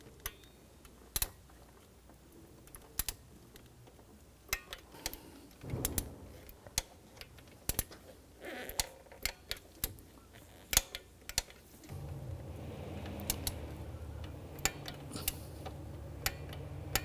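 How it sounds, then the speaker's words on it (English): Torque wrench tightening throttle body bolts to 60 inch-pounds on a 2004-2009 Audi Quattro, giving sharp, scattered ratcheting clicks at close range with no talking. "We're going to torque these bolts to 60 inch-pounds."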